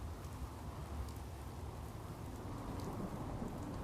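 Steady rain hisses with low rumbling thunder underneath in Fallout 4, a dense, even storm texture that continues without pause and with no voices.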